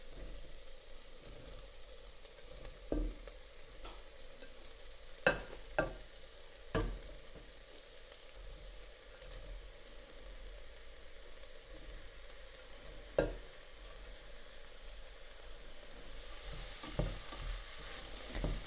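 Mushrooms and carrots for lasagna are stirred into a sizzling pan, a low steady sizzle broken by several distinct clacks and scrapes of the utensil against the pan, with no talking.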